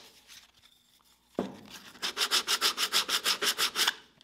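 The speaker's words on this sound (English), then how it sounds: "we can just give it a final little sand" A small wooden project, glued and nailed together, gets a final hand sanding: after a thump, about a dozen quick, even back-and-forth rasping strokes sound close and loud, with no talk.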